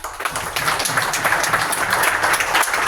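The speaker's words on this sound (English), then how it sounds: "give Ben a round of applause" Loud, dense applause from an audience at a tech demo night, steady clapping filling the whole stretch without letting up.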